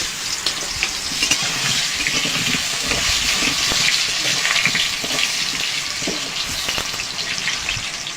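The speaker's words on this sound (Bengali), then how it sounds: "তেলটা গরম হয়ে গেছে, এবার আলুটা ভেজে নেব।" Potatoes fry in hot oil in a kadai, a loud, steady sizzle crackling without pause from start to finish.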